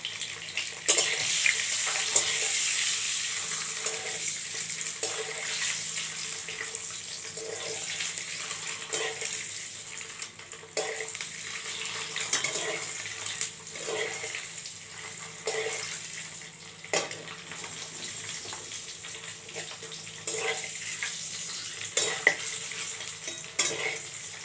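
Egg and soybean curry masala frying and being stirred in a pan, a steady close sizzle broken by repeated scraping stirs, with no talk.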